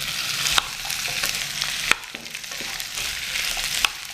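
Mustard seeds and urad dal crackle and sizzle in hot frying oil, a steady close frying hiss broken by sharp pops and stirring clicks, with no talking.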